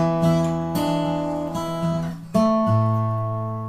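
Acoustic guitar playing a blues phrase with quick hammered-on notes, several plucked attacks ringing out clearly, close and solo without voices.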